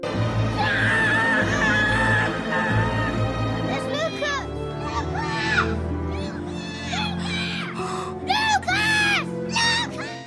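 A boy screams loudly in long, anguished bursts after a tsunami in a film, with several shorter cries near the end over a busy, noisy background.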